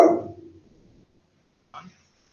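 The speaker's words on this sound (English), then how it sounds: "Oh no, sorry about my dog." A pet dog barks once, loud and close, in a home during an online meeting, the bark trailing off; a faint brief sound follows about a second later.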